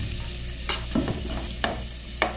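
Pasta sizzling and frying in margarine in a pan, a steady close crackle broken by a few sharp stirring scrapes.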